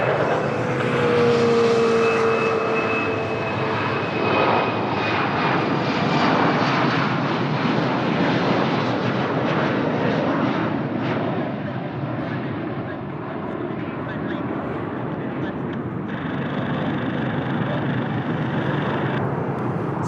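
A fixed-wing airliner on approach to the runway at Lisbon Airport, a loud, steady broadband engine roar that holds for the full twenty seconds with little change, no talk over it.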